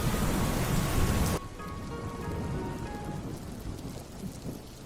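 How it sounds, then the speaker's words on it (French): Steady rain falls during a thunderstorm in tabletop RPG ambience. A dense, heavy hiss cuts abruptly to a softer patter after about a second, with faint tones drifting underneath and no talking. "Et la pluie qui continue à tomber."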